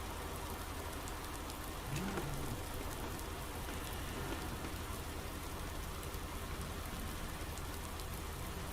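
Steady, dense rain pours down in Farming Simulator 19 while fertiliser is spread over a field, a constant hiss of drops on surfaces with a faint rumble underneath and no voices.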